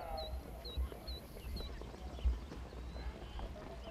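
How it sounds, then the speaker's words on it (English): Trotting horses' hooves thud in a harness race for three-year-old trotters, a faint, rumbling clip-clop of several horses at a distance, buried in broad outdoor racetrack noise with a few high bird-like calls. "You've got a horse race, three-year-old trotter going"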